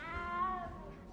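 A frightened little cat in the video game Hogwarts Legacy lets out one close, drawn-out meow whose pitch rises slightly and then falls away, over faint background noise.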